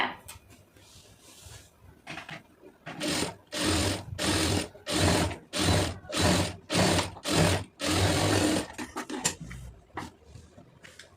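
A sewing machine stitching fabric for a puff sleeve runs in about eight short, even bursts separated by brief pauses. Each burst is a steady, close mechanical whir, and no one talks.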